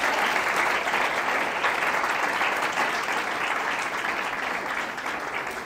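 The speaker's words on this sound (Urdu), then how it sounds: "کیا یسوع مسیح کے لیے زوردار تالیاں بجائیں گے؟" A church congregation gives loud, sustained applause, dense and even clapping filling the hall for several seconds and fading slightly near the end.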